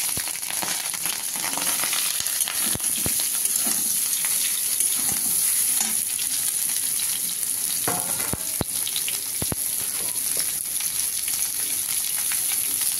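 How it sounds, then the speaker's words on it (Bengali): Green chillies fry in hot oil with a loud, continuous sizzle, broken by scattered clicks and scrapes of stirring throughout. "দিয়ে দিলাম কাঁচা লঙ্কাগুলো তেলের মধ্যে, নাড়াচাড়া করে দিয়ে দেবো"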